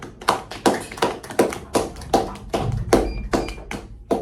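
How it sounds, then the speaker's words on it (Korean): A small audience at a student poetry talk show claps to welcome the poet, with distinct separate hand claps in an uneven rhythm, close and fairly loud, ending abruptly. "박수로 맞아주세요"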